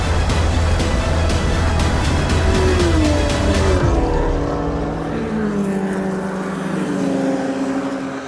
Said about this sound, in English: And that's another impressive lap time from Ray Collier in the number 15 Golf.